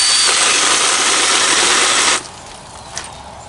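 A chainsaw with a loosening chain cutting apple tree wood, a loud continuous buzzing whine for about two seconds that then cuts off abruptly into a quiet idle with a faint click.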